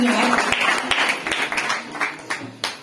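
Clapping from an audience at a Mangalagaur women's celebration in Ratnagiri, a dense patter of hand claps that fades and restarts in bursts, with some voices mixed in.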